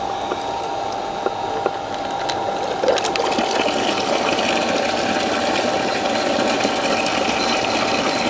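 An electric water pump runs steadily while it primes, with water flowing through it. A constant close hum and watery rush carry on without a break.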